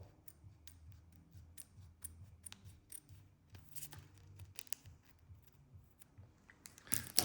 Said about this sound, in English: And then we're going to cut this so there's a tiny little